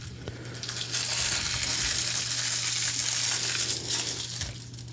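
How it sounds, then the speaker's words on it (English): Plastic shrink wrap is crumpled and peeled off a vinyl record album, a steady, close crackling rustle lasting several seconds, with a low constant hum underneath. "Crumpling plastic."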